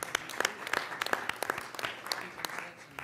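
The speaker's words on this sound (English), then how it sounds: "So one last round of applause for all of our presenters today." Sparse, light applause from a small audience for presenters at a board offsite meeting, distinct individual claps quiet and close, fading slightly toward the end.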